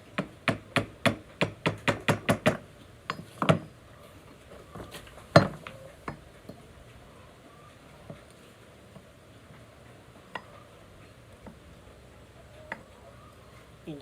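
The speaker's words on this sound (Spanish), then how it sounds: "Cogemos la maceta, esto de silicona." Sharp knocks of a silicone mallet on cardan shaft (4x4 transmission shaft) parts during repair, a quick run of about ten evenly spaced taps followed by a few scattered louder blows, then occasional faint ticks in a quiet workshop.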